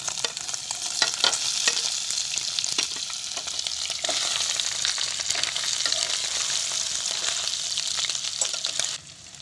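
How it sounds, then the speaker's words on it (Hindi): Paneer cubes frying in oil in a kadai for paneer pulao, a loud continuous crackling sizzle with frequent sharp pops and stirring scrapes, heard close up and alone until it quietens just before the end. "तो कढ़ाई में हम तेल डालेंगे, अब पनीर को हम फ्राई करेंगे।"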